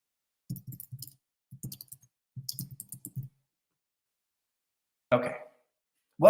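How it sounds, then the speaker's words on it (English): Several short bursts of computer keyboard typing, soft clustered key clicks in uneven groups, followed by a few brief louder sounds near the end. "While I'm typing this in"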